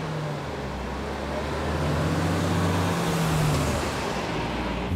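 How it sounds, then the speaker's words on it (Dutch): Trucks and other traffic drive along a road through the Dutch village of Waalre, making a steady loud engine and tyre roar with a low drone swelling as a heavy vehicle passes; no one speaks. "Nu rijden er nog volop vrachtwagens door Waalre en dat leidt tot geluidsoverlast"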